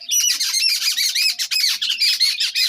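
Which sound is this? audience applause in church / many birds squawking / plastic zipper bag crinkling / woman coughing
many birds squawking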